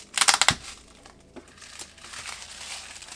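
Plastic shipping packaging crinkles and crumples as a K-pop album is pulled out, a burst of close, loud rustling at the start that fades into quieter handling noise.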